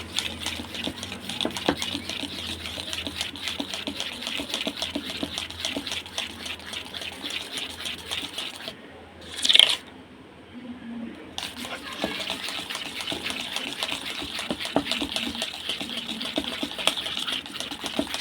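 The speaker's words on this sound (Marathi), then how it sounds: "जेवढं फेटता येईल हे पीठ तेवढं फेटून घ्यायचं आहे" Rapid, rhythmic clicking and sloshing of a whisk beating thick jalebi batter in a bowl, pausing briefly midway before resuming at the same steady pace.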